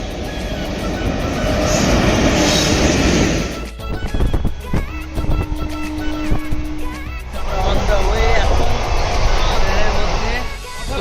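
Rumble and rattle inside a moving train carriage, loud and continuous, with a steady rolling roar broken midway by clacking and a brief tone, as people talk nearby.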